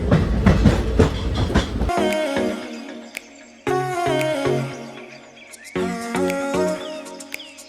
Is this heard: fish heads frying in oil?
no